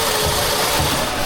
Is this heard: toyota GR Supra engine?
yes